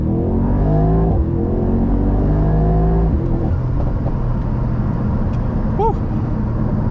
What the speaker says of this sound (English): let's do a 0 to 60 on the AMG SL63. Got to push the brake all the way in, floor the gas.